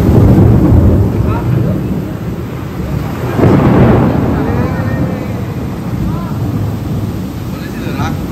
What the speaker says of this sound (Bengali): এই বৃষ্টিটা দেখতে মজা লাগছে